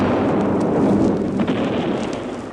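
Pakistani artillery shelling on a battlefield in the Khemkaran sector, a loud, dense rumbling explosion that swells and slowly decays with no voices.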